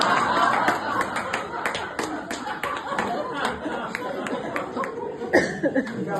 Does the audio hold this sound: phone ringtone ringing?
no